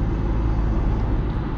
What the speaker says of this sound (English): Whoa! Nearly got hit by a car.